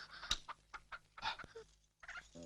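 A hen clucking at close range in a Tamil film scene, with a string of short, quick clucks and squawks that break off into a brief pause before more clucks.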